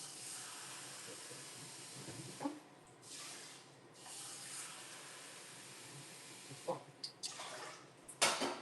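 Water hisses and splashes steadily into a pot of rice, quiet and close, with a few clinks and a short burst of louder spray near the end.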